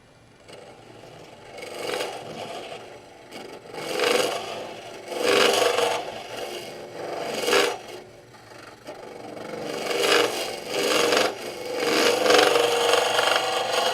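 A cutting tool scrapes and rasps against cypress wood in repeated strokes while hollowing it, each pass swelling and fading, close by with a faint whirring underneath.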